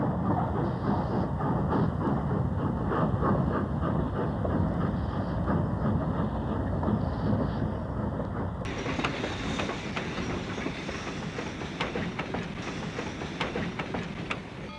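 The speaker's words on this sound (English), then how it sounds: "An AC-8 pulls up a siding on the east side of Beaumont Pass to wait for an eastbound to clear." A Southern Pacific AC-8 cab-forward steam locomotive rolls a freight train into a siding on the east side of Beaumont Pass, a steady heavy rumble with clickety-clack wheel noise and rail sounds sustained throughout, fairly close.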